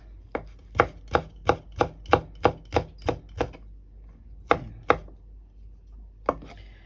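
Garlic cloves are sliced with a knife on a cutting board, giving a quick steady run of about ten sharp, close taps, then a pause and three more scattered cuts, with no talking.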